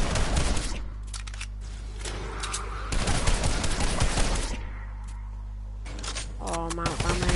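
Rapid bursts of video game gunfire from a connected weapon, loud and close, firing in several volleys with short pauses, while a person talks over it.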